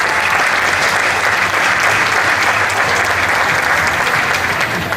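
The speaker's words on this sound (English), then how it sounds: "we have to give them a round of applause for that" A festival crowd at the Hmong Wausau Festival gives a loud, dense round of applause, a continuous roar of many hands clapping close by without a break.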